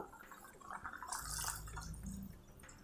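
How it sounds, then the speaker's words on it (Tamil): Tamarind water splashing and trickling into a pot, a short pour that swells in the middle then tapers off, close by, no voices. "இந்த ஸ்டேஜில் புளி ஜலம் விட்டுடலாம்"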